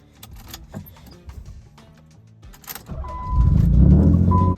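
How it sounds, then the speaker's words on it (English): Keys jingle and a door and cabin clatter before a car engine cold-starts with a loud crank and catches into a rising, steady idle roar. "Let's get a cold start going."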